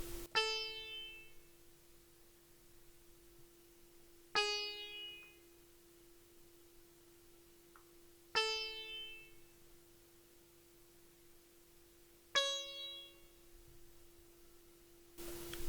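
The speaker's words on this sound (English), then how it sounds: "I then decided to accent the chords with a sitar this time, also from Xenology," Xenology sitar chords ring out four times at steady intervals, each a bright plucked attack with a shimmering decay over a low steady drone, alone and clear.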